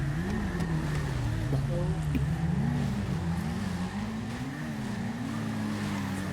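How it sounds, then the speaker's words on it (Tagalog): Motorcycles pushed to full throttle in a drag race, a continuous loud engine drone that rises and falls in pitch as the riders shift, with wind noise and a voice talking faintly underneath. "Dito nga guys ay tinotodo na namin yung motor namin."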